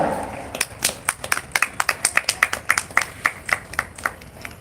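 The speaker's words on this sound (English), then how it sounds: "A big round of applause for her, children." A school audience applauds an Olympiad rank holder at a council investiture ceremony, a run of sparse, distinct handclaps that rise into a quick rhythmic patter before thinning out, moderately close.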